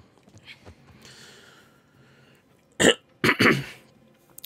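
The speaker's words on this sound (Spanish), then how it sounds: "perdón por la tos" A man coughs in a short burst of two or three harsh, close coughs after some quiet shuffling and faint background sound from a game.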